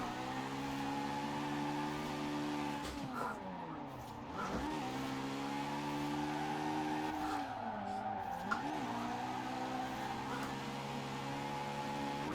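A rotary-engined drift car in Forza Horizon 4 holds a long, high-revving engine drone with tire squeal, the pitch dipping and climbing through several shifts and slides, loud and continuous.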